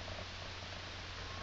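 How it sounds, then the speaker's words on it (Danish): A house cat purrs close by in a steady, continuous low rumble, with no voices over it. "det er bare min kat."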